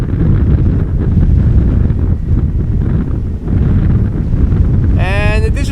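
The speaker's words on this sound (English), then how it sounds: "A bit windy indeed, André." Strong crosswind at Amsterdam Schiphol Airport buffets the microphone in a loud, continuous roar that dips briefly, with a short high whine near the end.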